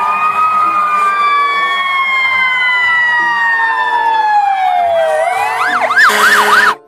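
A toy ambulance siren wails loudly and continuously with sweeping electronic tones, shifting into a faster warbling pattern near the end before cutting off abruptly.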